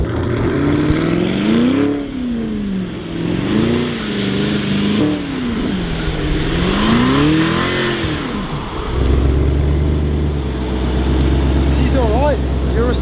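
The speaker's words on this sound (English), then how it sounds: "Urus Performante. Goes sideways easily, and we've not hit a single thing." A Lamborghini Urus Performante sliding sideways sends its engine into rising and falling revs, loud and close, then settles into a lower steady drone as people talk over it.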